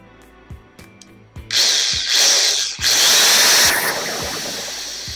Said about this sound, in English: now I'm just gonna run the drill